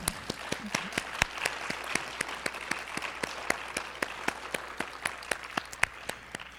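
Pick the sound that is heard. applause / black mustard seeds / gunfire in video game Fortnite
applause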